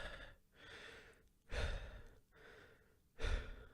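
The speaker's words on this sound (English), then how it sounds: "Katakuri spends 3 seconds on screen just breathing heavily, like so." Katakuri, the One Piece anime character, breathes heavily: three slow, loud in-out breath cycles, each exhale a deep rushing gust, heard close and alone.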